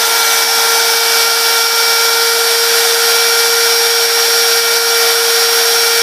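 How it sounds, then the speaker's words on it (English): A die grinder whirring at constant high speed on a crude homemade lathe built for turning Corian, a loud, steady motor whine with sharp sustained tones and no variation, close to the listener. "when the shaft is turning, and the die grinder is turning, which happens like this"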